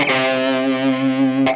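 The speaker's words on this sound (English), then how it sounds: "So now I'm using a bit of drive on the JOYO and a bit of tube overdrive" Electric guitar played through a JOYO amp model with drive plus tube overdrive, one sustained distorted chord ringing steadily for over a second before a brief pick attack at the end, no voices.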